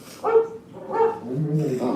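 A dog gives a few short barks and whimpering yips up close, one after another over a couple of seconds, in the Carousel of Progress show at Magic Kingdom.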